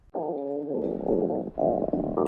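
Human stomach grumbling and gurgling, a continuous low rumble with shifting tones lasting a couple of seconds, fairly loud and close, with no talk over it.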